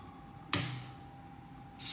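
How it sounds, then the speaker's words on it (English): A single sharp snip of scissors cutting off a piece during a home Bitcoin miner upgrade, close and crisp, followed by a quieter start of another sound at the end. "Snip that off."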